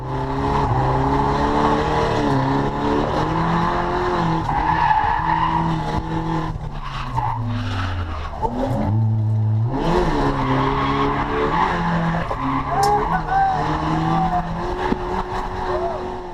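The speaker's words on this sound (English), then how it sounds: "We pulled the handbrake whilst the car was weight transferring to the right, which unfortunately almost put us into the wall." Car drifting on a race track using the handbrake, with engine revving and shifting pitch while tires squeal and skid continuously, loud and close; someone talks over parts of it.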